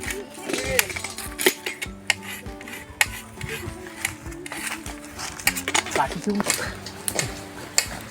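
Onions being chopped on a board in a busy household kitchen during preparation of a traditional festive offering, rapid knife taps mixed with clattering pots and dishes, with people talking throughout.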